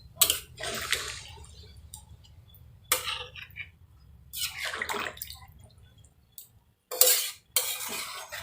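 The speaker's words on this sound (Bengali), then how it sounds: "মশলার জলটা ছিল, দিয়ে দেব" Spiced water is poured over fried chicken and potatoes in a cooking pot, producing several bursts of splashing and sizzling broken by short pauses, with a steady low hum underneath and no talk.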